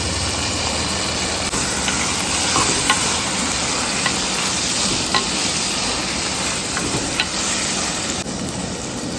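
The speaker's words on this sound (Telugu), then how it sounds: "ఇప్పుడు ఇందులో వంకాయ ముక్కలు వేసుకుందాం." Eggplant pieces frying in a pan of dry prawn curry, a steady loud sizzle with scraping stirs running throughout, no voices.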